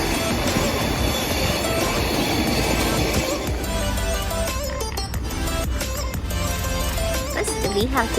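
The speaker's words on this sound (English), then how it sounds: "Now y'all can see the railway station in Newport," Train at Newport railway station in the UK, a loud, continuous rumble with rattling wheels and high squeals of rolling stock close by on the platform.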